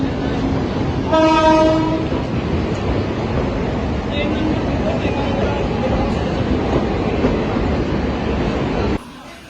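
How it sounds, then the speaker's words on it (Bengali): A passenger train pulls in at a railway station platform, with a loud horn blast near the start over a continuous heavy rumble of wheels and carriages, while people talk nearby. "আমাদের ট্রেন চলে এসছে"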